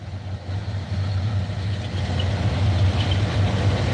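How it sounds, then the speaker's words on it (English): A train rolls past near a fishing spot, a steady low rumble of heavy engine and wheels holding at a constant level throughout, with no voices. "We're just gonna give this a minute for this train to go by."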